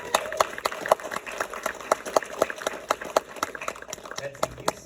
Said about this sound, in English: I mean, give a round of applause for Betsey Brown.